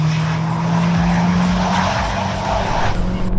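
A car on a race track during a hot lap, loud engine drone with sustained tire squeal and skidding under heavy cornering, close and continuous with slight shifts in pitch.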